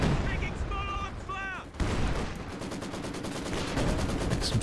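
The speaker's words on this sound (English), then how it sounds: "There's a barrage coming in." An artillery barrage in Company of Heroes 2, with booming shell impacts and crackling gunfire and machine-gun bursts in a busy battle mix, while game voices briefly sound early on.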